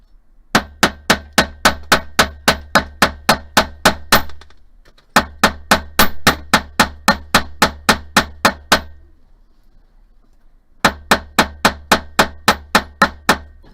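A metal hoop earring is hammered in three fast runs of sharp, evenly spaced, ringing strikes, loud and close, with brief pauses between the bursts.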